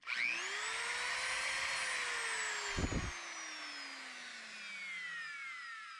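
A high, screechy whine from a Dremel rotary tool at full speed, pitch sliding slowly downward as it spins, with a brief clunk partway through.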